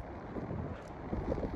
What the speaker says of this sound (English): it's windy as hell out here